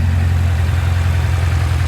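A 1971 Toyota Celica engine idling in a garage after a heater core flush, a steady low rumble with an even, unbroken tone throughout and no voices.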